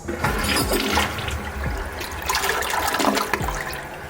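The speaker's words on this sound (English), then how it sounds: "let's make sure it flushes properly" American Standard toilet in a Holiday Inn Express hotel room in Roanoke, Virginia, flushing with a loud close rush and swirl of water that continues steadily throughout.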